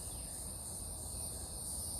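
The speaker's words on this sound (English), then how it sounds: "buzzing is cicada" Cicadas buzzing outdoors in July, a steady high-pitched insect drone that holds evenly for the whole two seconds under a low rumble, with no voices.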